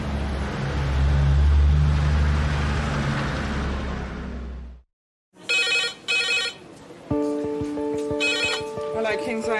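After a loud engine rumble cuts out, a hospital's red emergency phone, a direct line from the ambulance service, rings in repeated bursts, close and insistent, with a voice talking over the later rings.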